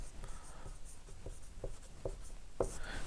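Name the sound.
writing on a board during a lesson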